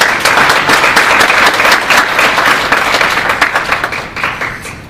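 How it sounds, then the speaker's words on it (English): An audience at a Virginia State Bar immigration CLE session applauding, a dense, loud burst of many hands clapping that holds steady and then begins to thin out toward the end. "Let's give them another round of applause."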